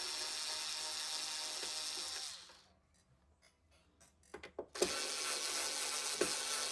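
Screws being unscrewed from a touch computer, heard as a run of soft mechanical ratcheting clicks in a quiet gap between stretches of steady broadband hiss, with no talking.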